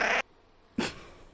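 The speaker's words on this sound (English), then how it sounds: "You're just a cat." A cat meows twice, two short close cries separated by a brief pause, with nothing else around them.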